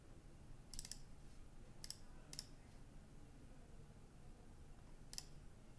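Sparse mouse clicks while working in project management software, four or five short sharp clicks spaced irregularly over a faint steady background hum, with no talking.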